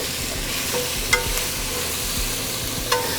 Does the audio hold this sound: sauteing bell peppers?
yes